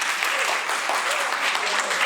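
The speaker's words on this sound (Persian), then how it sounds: "تشویقش کنید که بیاد بالای صحنه" A school audience applauds a student coming up on stage, a steady spread of many hands clapping at moderate volume with faint voices mixed in beneath.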